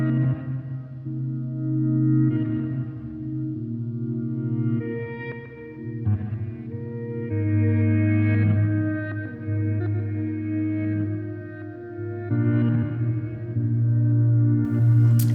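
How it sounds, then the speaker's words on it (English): Sustained guitar chords ring out drenched in a wide, washy reverb, notes blurring into long shimmering tails that overlap as the chords change. "It's really good pairing it with a bigger reverb"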